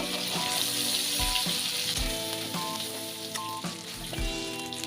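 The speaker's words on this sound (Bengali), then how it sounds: "চিংড়িগুলো ভাজি করা হয়ে গেছে এখন তুলে নেব" Shrimp sizzle and fry steadily in a pan for a Bengali pumpkin-stem and shrimp dish, a continuous close crackle broken by a few soft stirring knocks, with no one talking.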